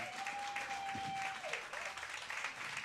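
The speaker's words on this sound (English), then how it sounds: "we've got a round of applause in the warm room for the teams coming off the ice" Applause in a curling club's warm room for teams coming off the ice, a brief spread of clapping at moderate distance with a faint tone and some voices mixed in.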